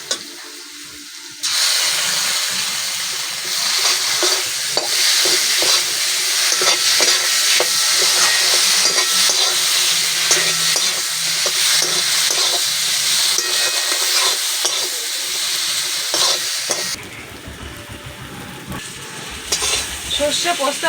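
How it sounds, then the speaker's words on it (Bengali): Mustard, poppy seed and green chilli paste frying with potatoes in a pan, giving a loud, steady sizzle with stirring scrapes that runs for most of the stretch before cutting to a quieter, clattering end. "সর্ষে, পোস্ত আর লঙ্কাটা দিয়ে আমি হালকা করে ভেজে নিয়েছি"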